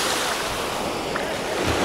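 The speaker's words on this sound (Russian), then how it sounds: "Не, такие волны, да, такие, да." Sea waves wash continuously onto a Mediterranean beach at Avsallar, Turkey, a loud, steady surf roar mixed with wind buffeting the microphone.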